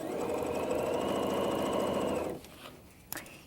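A sewing machine stitching the side seam of a girl's jumper, a fast steady whirring run up close that stops abruptly partway through, followed by a quieter click.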